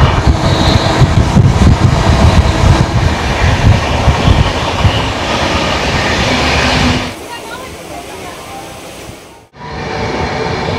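A passenger train running on rails from Howrah, Kolkata to Jhargram, a loud steady rumble and rattle with faint clickety-clack that drops to a quieter roll midway, then briefly cuts out before resuming.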